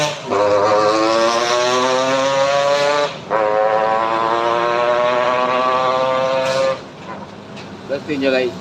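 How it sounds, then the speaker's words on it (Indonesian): A motorcycle engine roars loudly up close on the Sitinjau Lauik mountain road in Indonesia, its pitch holding steady as it passes, with a brief dip midway and the noise fading near the end. "rekam motor yang mau lewat bang"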